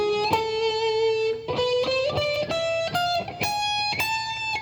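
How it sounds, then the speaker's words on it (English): A guitar plays a harmonic minor scale as single clear notes stepping upward one after another, plucked close and clean with no talking. "Now, I want you to also be aware of the harmonic minor, which sounds like this."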